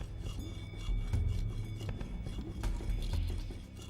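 A katana blade is rubbed back and forth over a polishing stone, a quiet, steady gritty scraping with faint rhythmic strokes close by.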